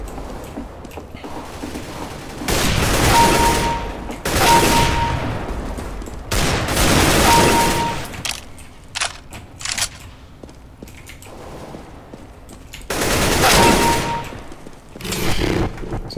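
AK-47 fire in CS:GO: several bursts of rapid automatic shots, close and loud, separated by quieter pauses.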